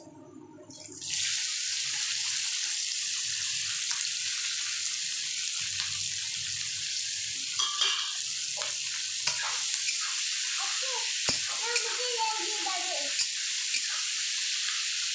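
Onions hit hot oil already spiced with cloves and cinnamon for a Bengali mutton curry, setting off a sudden loud, steady hiss that fills the rest of the clip, with small clicks and scrapes of stirring.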